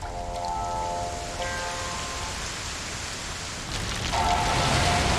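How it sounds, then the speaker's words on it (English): A torrent of rain pours down in the Monster Hunter Rise video game, a dense steady roar of rainfall that swells louder near the end, with faint tonal game sounds ringing over it. "unleashing a torrent of rain."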